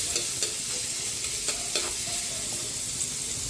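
Garlic sizzles steadily in hot oil in a frying pan, a close, continuous crackle with a few brief stirring clicks.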